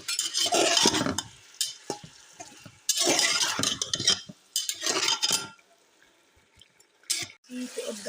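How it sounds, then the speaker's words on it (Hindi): Ground cumin being mixed into a pot of mutton for raisin rice, with bursts of spoon scraping and stirring against the pot between pauses, close by and fairly loud, with a voice speaking at times. "यहाँ पे मैं ज़ीरा पाउडर ऐड करूँगी 1 चम्मच। अब मिक्स करेंगे।"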